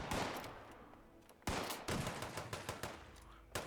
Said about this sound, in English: We got people shooting at us now. Hello. Pretty long-range shot for a shotgun.